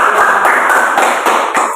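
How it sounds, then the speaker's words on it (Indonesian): A classroom group claps after presenting, dense hand clapping sustained throughout at steady loudness, with a few sharper swells, no voices over it. "beri tepuk tangan untuk kelompok 1 yang sudah mempresentasikan"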